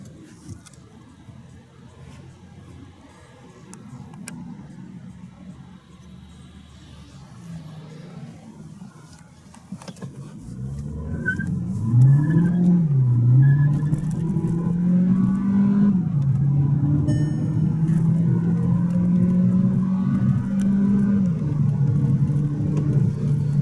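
Skoda Octavia A7 1.4 TSI from 2015, fitted with a gas conversion and running on petrol, accelerating hard: a quiet idle swells into a loud, rising engine roar with gear-change dips that holds strong to the end.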